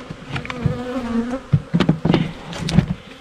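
Honey bees buzz close by in a bee yard, a steady droning hum with several individual bees flying near and away.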